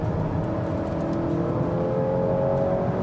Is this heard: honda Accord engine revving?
yes